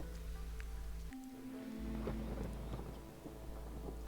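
Steady storm rain hisses continuously in the video game Against the Storm, with a low rumble beneath and small scattered taps and clicks, evenly loud throughout with no talking.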